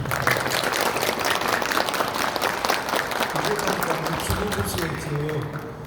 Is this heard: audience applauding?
yes